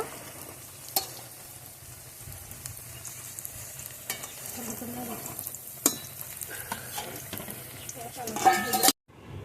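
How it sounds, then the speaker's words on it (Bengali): Semolina snack pieces frying in hot oil, a soft continuous sizzle with occasional clinks and stirring, fairly quiet and close, ending with a brief loud scrape before cutting off. "বাকিগুলো আমি এভাবে ভেজে নেব।"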